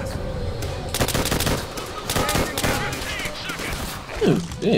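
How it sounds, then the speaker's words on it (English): Bursts of rapid automatic gunfire in the war shooter Call of Duty: World at War, loud and close, with several clustered volleys and a brief distorted shout near the end. "What are you shooting at?"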